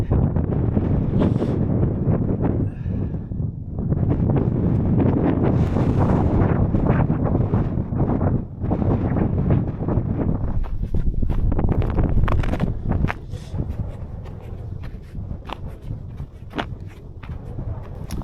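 Cold wind gusts roar steadily across the microphone on an icy winter mountain path on The Cheviot at night, loud and buffeting throughout, easing slightly toward the end as the walker drops out of the worst of it.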